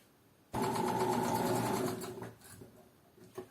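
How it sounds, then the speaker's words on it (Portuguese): Sewing machine backstitching at the end of a fabric seam: a close, fast mechanical whirring starts abruptly, runs steadily for about two seconds, then slows into a few softer stitches and clicks. "retrocesso no final da costura."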